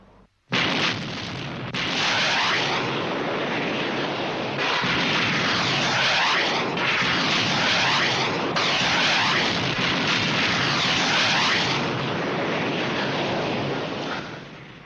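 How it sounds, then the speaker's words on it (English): Weapons firing overhead and explosions in a science-fiction television series, a sustained loud roaring blast texture with repeated surges and cutoffs, broadband and dense, no talk over it. "It wasn't aimed at us. They were firing over us."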